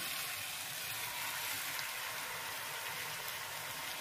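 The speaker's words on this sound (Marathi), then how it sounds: "जे पाणी शिल्लक आहे ते पण मी अगदी थोडंसं वरतून घालते आहे कढईने" Potato-slice water splashed from above into onion bhujane cooking in a hot iron kadhai, giving a steady, dense, close sizzle that holds evenly throughout with no voices.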